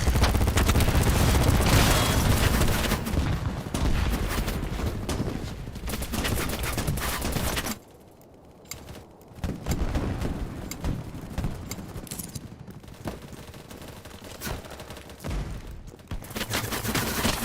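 Gunfire from a gun in a video game, dense rattling bursts of shots and blasts layered heavily, with a short lull midway before the firing resumes loud and continuous.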